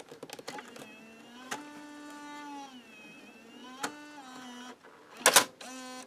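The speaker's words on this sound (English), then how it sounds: "if I eject the tape" A Panasonic RX14 VHS-C camcorder ejects its tape: a few light clicks, then a whining motorised mechanism with shifting pitch, ending in a sharp clunk and a brief final whir.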